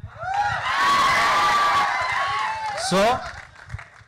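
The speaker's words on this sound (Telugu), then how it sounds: "ఇప్పుడు మీరందరూ ఎస్కేఎన్ ఎస్కేఎన్ అంటే మీరు ఏదో క్లాప్స్ కొడుతున్నారు కదా" Crowd at a film trailer launch event cheers, whoops and claps loudly, a sustained surge of shouting that swells, briefly peaks, then fades, with a voice speaking over the noise.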